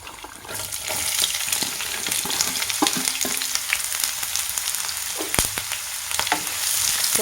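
Onions sizzling in hot oil with curry leaves in a pan for a Mangalorean mackerel gassi, a steady crackling fry broken by occasional clinks and scrapes of stirring.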